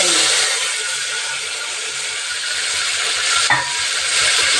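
Onions and ginger-garlic paste frying in a pan while being stirred, giving a loud, steady sizzle with a brief scrape partway through and no talking.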